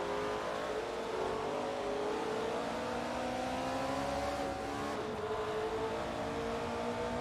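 1960s Formula 3 race car engines in a racing simulator game, several high buzzing engines revving and shifting together in a steady pack, loud and continuous, with no voices.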